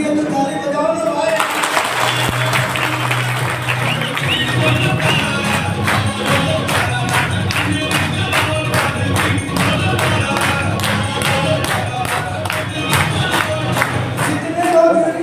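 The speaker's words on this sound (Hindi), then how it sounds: "तो ताली बजाओ ना भाई" Crowd at a marketing business meeting in Kukshi, Madhya Pradesh, clapping and cheering steadily and loudly throughout, with rhythmic claps and a voice and music-like tones running underneath.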